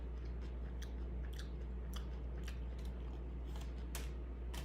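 Close, quiet crunching bites of a banh mi sandwich with crunchy carrot and daikon, several irregular crisp chews over a steady low hum, with no talk.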